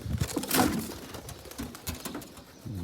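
American pigeons coo close by in soft, repeated throaty calls, with a couple of sharper bird notes and faint rustling between them.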